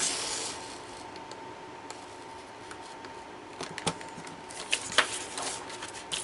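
A scrap piece of paper being trimmed by hand, heard as soft, close rubbing and scraping strokes over a steady background hiss, with a few sharper snips and rasps near the end and no talk.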